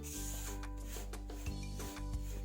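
A spoon stirring panjiri flour as it roasts in ghee, soft rubbing scrapes against the pan in an uneven rhythm over a low steady hum, close and quiet, with no talking.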